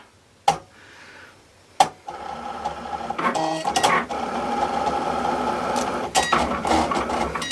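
A Cricut cutting machine slices cardstock, starting with two sharp clicks as the head engages, then a steady mechanical whirring and buzzing of the blade carriage that runs loud and continuous, with brief shifts in pitch.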